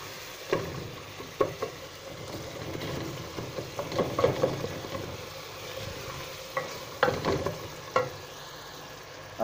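Tomatoes being fried and crushed in a pot for Sindhi spinach and mutton curry, a low sizzle with irregular bursts of spoon scraping and stirring, close and moderately loud.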